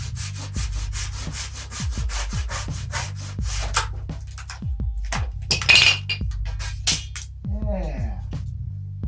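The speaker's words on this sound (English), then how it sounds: "I'm cutting it with a hand so I can get these pieces onto other power tools" A hand saw cutting through a fallen maple log in a yard, steady rhythmic back-and-forth rasping strokes close to the microphone, with a brief clink and a short voice near the end.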